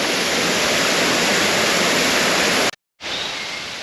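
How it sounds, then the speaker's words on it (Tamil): A forest waterfall near Reichenburg, Switzerland, roars as a loud, steady rush of falling water, broken by a brief moment of silence before the rush resumes. "இந்த காட்டுக்குள்ளே இப்படி ஒரு அழகான அருவி இருக்குன்றது"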